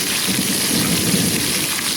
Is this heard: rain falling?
yes